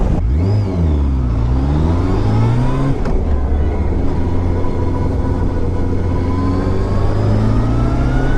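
A Yamaha Fazer 600 motorcycle engine pulls loudly and steadily while riding, its pitch rising and dipping through the revs in the first few seconds, then holding a strong, even drone close up with no talk.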